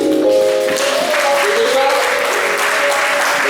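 A church congregation claps loudly and steadily, the dense applause filling the whole stretch while some voices sound faintly underneath.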